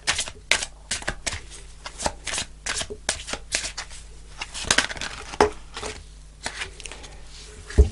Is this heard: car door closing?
no